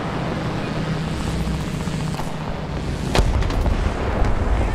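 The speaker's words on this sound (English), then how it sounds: "Artillery fire." Artillery fire in a War Thunder arcade tank battle with British tanks: a rumbling battlefield bed breaks into one sharp, loud boom partway through, followed by lingering rumble and echoes, no talk.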